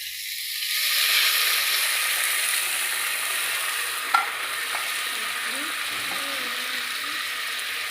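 Food cooks in a pan on the stove as its water boils off, a steady moderate sizzle and hiss with a few faint clinks and scrapes, without any talking.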